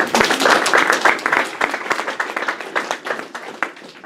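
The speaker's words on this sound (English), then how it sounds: "Give her a round of applause." An audience applauds at a school intro-day event, a dense wash of hand claps that is loud at first and slowly thins and fades over a few seconds. Nobody speaks.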